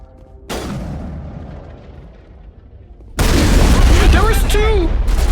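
Heavy gunfire in Mass Effect, starting with a single loud blast, then after a quieter stretch a sustained barrage of booming shots with whizzing sounds, loud and close.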